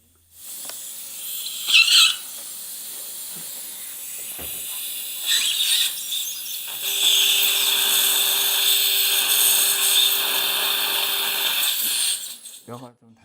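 A dental implant drill with a 5.0 taper bit cutting into hard bone during implant placement, a sustained high whine that rises and steadies for several seconds before cutting off, with faint suction and clinic noise behind it.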